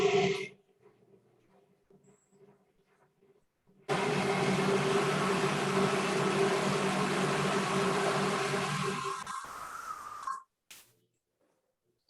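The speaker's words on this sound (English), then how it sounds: "Okay, so now I'm going to put the blender on again." A kitchen blender runs loud and steady for about six seconds, starting abruptly after a quiet stretch and cutting off sharply, with silence following.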